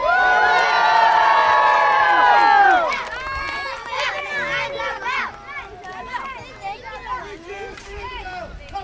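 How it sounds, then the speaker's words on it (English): A crowd at a renaissance faire tournament joust cheers for the jousting knights: a loud, sustained roar of many voices for about three seconds, then scattered shouts and chatter fading into lighter crowd noise. "a cheer for your favorite knights!"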